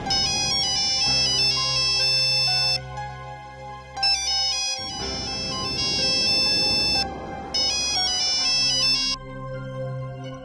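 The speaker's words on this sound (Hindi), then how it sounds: "थैंक गॉड विश, तुमने मेरा फोन तो रिसीव किया" Electronic phone ringtone plays loudly in repeated melodic bursts, separated by short gaps where a low background hum continues.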